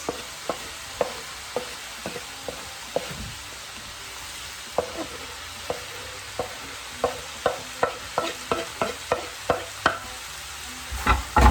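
Potatoes and carrots being stirred in a frying pan, with a soft sizzle under a series of sharp spatula scrapes and clacks against the pan, growing more frequent and louder toward the end.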